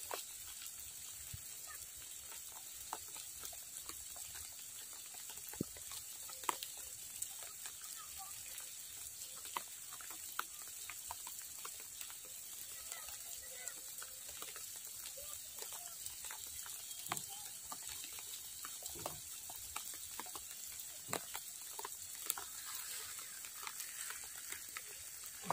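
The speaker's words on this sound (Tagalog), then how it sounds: "Lakas ng ulan, talaga." Steady, dense patter of heavy rain with scattered sharper drops, continuous and fairly close, no voices.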